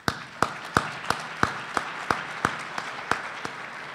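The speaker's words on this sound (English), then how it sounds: "Please join me in a round of applause for all those folks and all the speakers and presenters." A lunchtime audience at an energy summit applauds, individual claps ringing out in a steady, fairly sparse rhythm, moderately distant in a large room.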